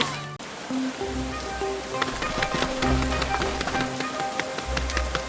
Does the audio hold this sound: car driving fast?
no